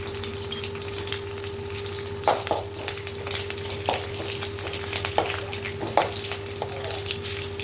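Hot oil crackles and sizzles steadily, with sharp pops and spatters scattered throughout as curry leaves hit the pan, over a low background hum.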